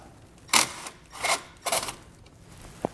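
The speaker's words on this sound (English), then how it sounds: "So we're going to use a 13mm socket to remove" A 13mm socket wrench loosens a nut from a vehicle battery stud: three short ratcheting bursts in succession, close and clear, followed by a brief metallic tick, with no talking.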